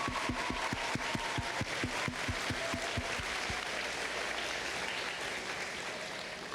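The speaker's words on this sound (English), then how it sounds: "Can we give a round of applause to our students?" Applause from an assembly audience at a school award event, sharp loud claps at first that quickly blur into steady, moderately faint clapping that carries on for several seconds.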